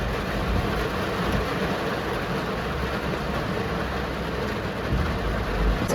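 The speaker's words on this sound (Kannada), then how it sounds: "ಜೋರಾಗಿ ಮಳೆ ಬರುತ್ತಿರುವ ಕಾರಣ ಕಾರನ್ನು ಸೈಡ್ಗೆ ಹಾಕಿ ನಿಂತಿದ್ದೇವೆ." Heavy rain pours down on a car pulled over at the roadside, a dense, steady roar of drumming water close around the vehicle, unbroken and with no voices.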